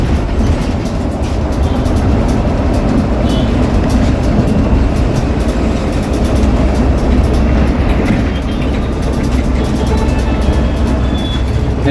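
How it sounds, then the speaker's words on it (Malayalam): A Hyderabad metro train runs along the elevated line above a road, a loud, continuous rolling rumble with rail clatter heard from street level below. "മുകളിലാണ് മെട്രോ ലൈനാണ് മുകളിലുള്ളത്"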